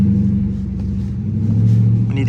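A Dodge Charger R/T engine drones loud and steady from inside the car while driving through the city at night, a deep low rumble that swells slightly toward the end.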